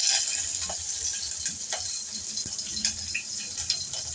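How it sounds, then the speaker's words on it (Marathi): Green chillies dropped into hot oil for traditional poha, a faint steady sizzle with small pops and crackles, quiet and close, no talking. "आता मी मिरची घालते."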